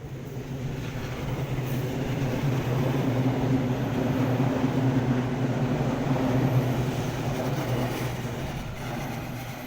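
A train rumbles past steadily with a low droning roar that swells slightly and fades, continuous for several seconds with no voices.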